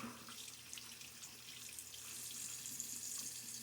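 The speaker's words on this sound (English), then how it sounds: "Rinse my razor out here" Tap water runs steadily into a sink while a double-edge safety razor is rinsed out during a wet shave, a continuous close hiss with no talking.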